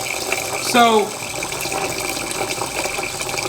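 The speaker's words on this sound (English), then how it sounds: "she just puts the water in" Water poured into rice in a pot while making garlic fried rice, a short splashing rush with a rising gurgle, under a steady background hiss as a voice speaks briefly.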